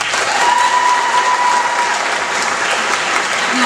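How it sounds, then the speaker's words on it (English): Loud, sustained applause from a school audience for transition year teachers, dense clapping filling the whole stretch with a faint steady tone early on. "I'd like to give them a round of applause, please."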